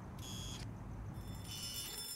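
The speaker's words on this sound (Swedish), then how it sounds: "Det ringer fortfarande hos honom dock." A faint electronic ringing inside a house in the Hello Neighbor video game sounds as two short tonal bursts separated by a brief gap over low background hum.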